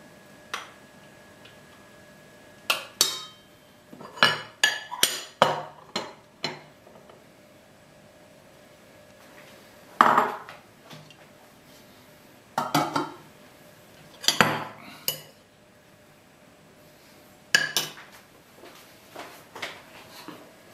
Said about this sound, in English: all I need to do now is to dish up